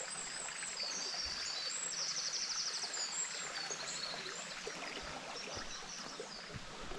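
A small babbling brook trickles and splashes nearby, a steady watery hiss with faint birdsong over it and a few soft footfall-like thuds toward the end.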